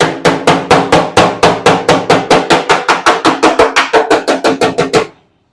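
A hammer pounds a dent out of a 1970 Dodge Challenger body panel, roughly two dozen sharp metallic blows in a fast, even rhythm, loud and close, then stopping abruptly.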